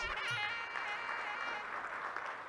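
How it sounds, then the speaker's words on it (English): Applause from a gathering of retired Indian Railways officers at a railway officers' club meeting, honoring a retired officer in his nineties; steady, dense clapping fills the room throughout. "a big round of applause"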